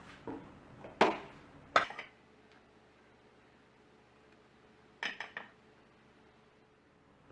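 A few sharp metallic clanks as a frying pan is set down on a gas stove, then a quiet pause before two more knocks.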